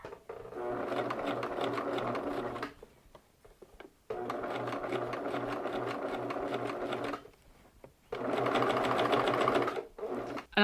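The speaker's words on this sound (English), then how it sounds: "So I'm going to do a very long stitch length, which is 6 millimeters on my sewing machine." A sewing machine running long 6 mm basting stitches along a zipper on a pillow cover, three loud, steady buzzing bursts of rapid stitching separated by short pauses.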